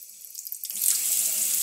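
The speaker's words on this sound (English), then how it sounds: "let's do this first and turn the water on" A sink tap is turned on at about two thirds of a second and water then runs steadily and loudly into a basin, with no talking over it.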